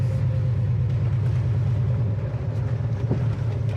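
A 1969 Mustang Mach 1 R Code big-block muscle car pulling away: a deep, steady low engine rumble with a faint rising tone, heard close and without talk.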